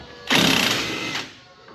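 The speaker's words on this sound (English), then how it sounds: "And that's how you remove a bolt for a rear shock." An impact-type power tool loosens the rear shock absorber bolt on a small dump truck in a shop, giving one loud burst of about a second that then fades.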